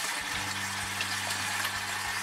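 Cold running water rinsing raw potatoes for crispy fried potatoes, a steady, soft gush of flowing water with no pauses and no voices.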